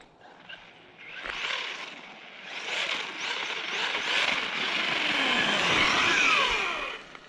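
Kraton EXB RC truck motor with a cogging, battery or ESC issue, revving in rising and falling bursts as the truck punches forward over rough outdoor ground, a whirring electric whine with gravelly tire noise growing louder toward the end.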